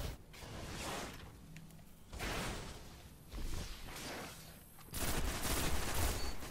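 Gunfire from a Destiny match, three or four loud bursts of rapid shots spaced a second or two apart, the last burst heaviest and sustained, with no talk over it.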